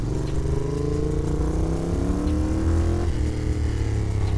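A 1981 Moto Guzzi Le Mans Mark 2 motorcycle engine runs loud and close with a steady, throbbing drone, its pitch shifting briefly near the end as the revs change. No one speaks.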